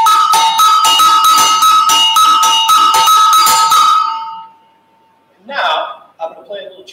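Agogo bells, the Brazilian double bells, are struck in a fast bright rhythmic pattern for about four seconds, loud and close, ringing out before a voice begins speaking.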